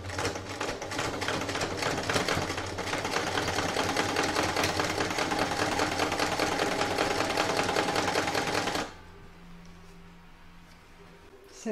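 A sewing machine stitches a fabric Christmas stocking, a dense, steady mechanical chatter running loudly for about nine seconds before it stops abruptly, leaving a quiet low hum.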